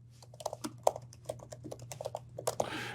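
Typing on a computer keyboard into the Nano text editor on Linux, a quick run of close, crisp key clicks in an irregular rhythm over a low steady hum, ending in a brief rustle.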